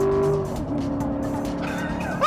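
A 2014 Chevrolet Corvette Stingray (C7) engine screams as it accelerates hard, the pitch rising steadily through the gear, close and loud, with a sharp shift at the end.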